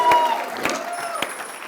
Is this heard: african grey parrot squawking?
no